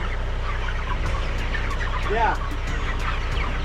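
Chickens clucking in a crowded, excited flock, a steady busy chorus with one louder rising call near the middle. The flock sounds close and is picked up against a constant low background hum.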